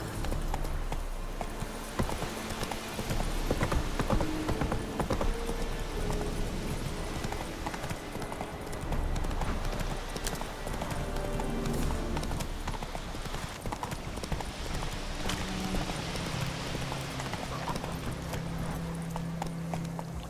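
Roach the horse gallops steadily in The Witcher 3, with rapid, continuous hoofbeats up close over ambient game sound and music.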